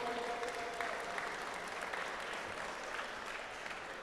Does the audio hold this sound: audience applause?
yes